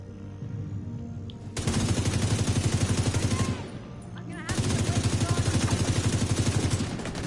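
Sustained automatic gunfire in the video game The Division 2 inside the Air & Space Museum, two long rapid bursts of evenly spaced loud shots separated by a brief pause, with quieter background game noise between.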